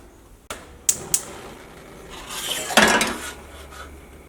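A metal pressure cooker lid is set on and closed during mutton curry cooking, heard as a thud followed by two sharp metallic clinks and a scraping rub of metal against metal, close and alone.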